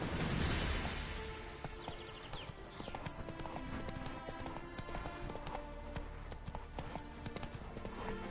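Roach, a horse in The Witcher 3, gallops in a fast steady clip-clop of hooves that runs the whole stretch, close and prominent over a dense game soundscape.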